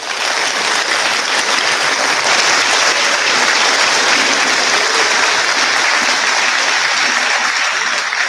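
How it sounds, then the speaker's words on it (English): Sustained applause for Global Studies Honor Society seniors at a Class of 2021 cord ceremony: a dense, steady wash of clapping hands, loud and even from start to finish with no voices rising above it. "Please give all our Global Studies Honor Society seniors another round of applause."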